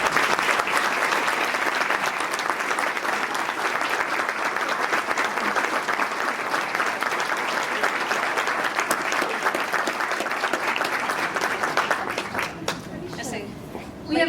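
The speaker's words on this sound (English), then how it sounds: "let's give Betty another round of applause." Audience applause for Betty at her award presentation, a dense, sustained round of crowd clapping that carries on steadily for about twelve seconds before thinning out near the end.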